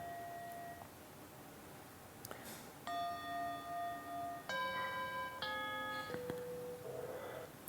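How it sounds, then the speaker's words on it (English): A meditation timer's starting bell rings out as clear, sustained chime tones, struck several times in succession with long ringing decay, loud and alone in a quiet room. "So that would be my starting bell."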